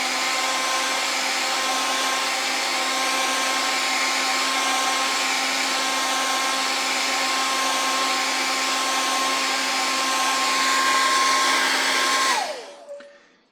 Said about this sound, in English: I'm going to go ahead and heat set.